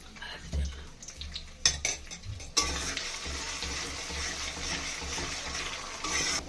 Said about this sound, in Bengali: তারপরে এই চালটা দিয়ে একটু ভেজে নিতে হবে।